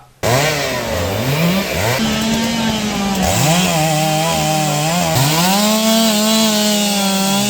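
Chainsaw cutting through a rotten-based roadside tree that fell onto a moving bus in Adimali, the engine revving up and down in loud, continuous bursts as the blade bites into the wood, with no talk.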